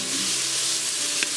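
Bacon sizzling in the bottom of an Instant Pot: a close, steady crackling hiss of frying fat that fills the short moment without pause or voices.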